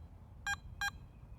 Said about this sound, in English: Press and hold the iron check button and wait for the double beep.